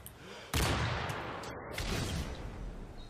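Sustained gunfire spraying in the video game Modern Warfare 3, a dense loud burst of shots that starts abruptly and continues steadily through the clip, with a voice talking faintly underneath.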